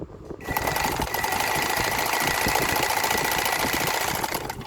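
A Janome zigzag sewing machine runs steadily, stitching a zigzag seam through four layers of fabric with a continuous close mechanical whir and rapid needle chatter throughout, with no talk.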